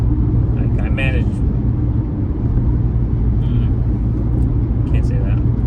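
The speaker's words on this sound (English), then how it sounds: "There's some traffic in the highway." Highway traffic makes a steady, continuous low rumble, heard from inside a moving vehicle, with brief higher sounds of passing vehicles above it.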